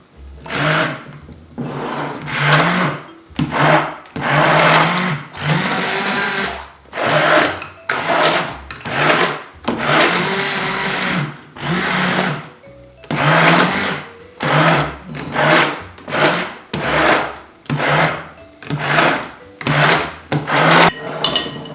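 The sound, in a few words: hand blender pureeing blanched tomatoes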